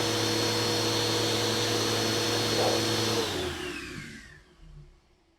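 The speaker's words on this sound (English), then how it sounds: "I simply put a vacuum hose next to the balloon, and when I turned it on" Vacuum hose running loudly with a steady whine and roar, then powering down and fading out over the last couple of seconds, beside a balloon it pulls on.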